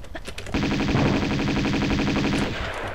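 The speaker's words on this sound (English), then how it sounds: "I think I'm going to try using the Uzis on him." Dual Uzis fire in the Tomb Raider 2 video game against a shotgun-wielding enemy. A loud, rapid automatic burst with tightly spaced reports runs for about two seconds, then quickly tails off.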